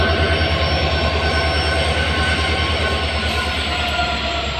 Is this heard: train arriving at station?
yes